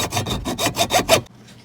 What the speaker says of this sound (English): Now what you do is take a hacksaw,